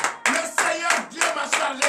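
A congregation at a morning prayer service claps in acclamation, six sharp evenly spaced bursts of many hands in quick rhythm, loud and close with no talk.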